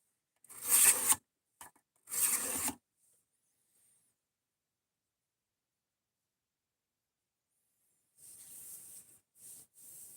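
A cheap knife is drawn across a 600 grit sharpening stone in two loud, close rasping strokes, then a long silence, then a few quieter scraping passes near the end.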